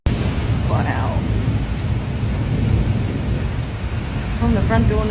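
A rare, violent Sydney thunderstorm with 185 km/h winds: heavy rain roars continuously while thunder rumbles low underneath, loud and close, with a brief whistling tone and a few faint voice-like sounds breaking through.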